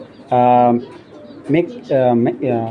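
A racing pigeon hen of BRPL bloodline gives several low, droning coos, one longer call followed by two shorter bursts, close by and fairly loud.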